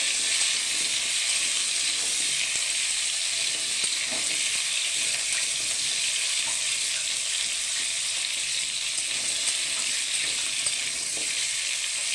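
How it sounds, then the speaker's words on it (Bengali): Potatoes fry in a little oil for a Bengali vegetable dish, making a continuous even sizzling hiss with faint occasional stirring, close and steady. "এটাকেও আবার লাল লাল করে এই অল্প তেলের মধ্যেই লাল লাল করে আমি ভেজে নেব।"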